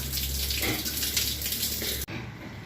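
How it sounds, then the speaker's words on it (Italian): Shower water runs in a dark bathroom, a steady close hiss of spray that continues without a break and cuts off sharply near the end, with a softer hiss after the cut. "doccia al buio, più romantica"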